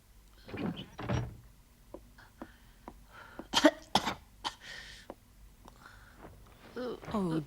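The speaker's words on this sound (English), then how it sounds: "that's a nasty cough." Moomin, a cartoon troll sick in bed with a cold, coughs in several rough bursts, with soft thumps and brief vocal sounds between them.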